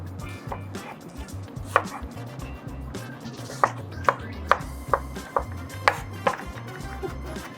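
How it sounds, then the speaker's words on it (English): Onions being chopped with a knife on a cutting board while preparing penne alla vodka with smoked salmon: a series of crisp, close knife strikes at an uneven rhythm with no talking. "All right, let's cut the onions."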